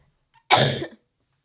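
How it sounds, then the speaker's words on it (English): A single short, harsh cough, close and loud, with silence on either side. "Every time I cough"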